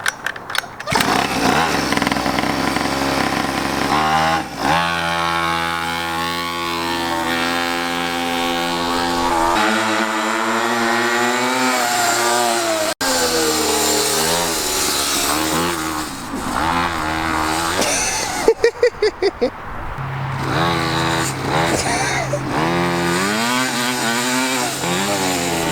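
A cheap $50 motorbike rides laps around a car park, its small engine buzzing loudly and continuously, pitch rising and falling as it accelerates, shifts and slows, with brief sharper bursts near the end.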